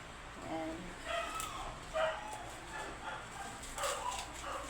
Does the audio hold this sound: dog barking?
yes